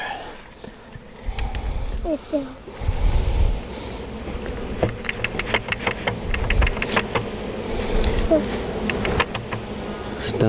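Dense insect buzzing from a honey bee swarm being removed fills the scene, with low rumbling handling noise and scattered clicks, steady throughout.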